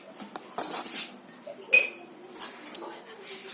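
A small spoon clinks against a drinking glass as tea is put into it, giving a few sparse, light chinks and taps with a brief ringing ping in the middle, close by in a quiet room.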